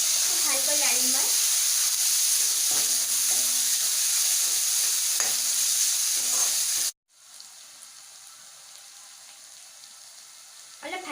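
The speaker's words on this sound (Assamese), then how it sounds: "অলপ ভাজি লৈছোঁ।" Tomato and green chili frying and being stirred in a pan for an Assamese fish dish, a steady sizzle with scraping stirs for about seven seconds, then dropping to a much quieter hiss.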